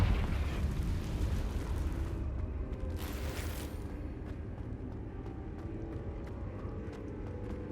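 A Confringo spell explosion in the Hogwarts Legacy video game opens with a loud, deep roaring blast that rumbles on and slowly fades, a brief hissing burst flaring partway through.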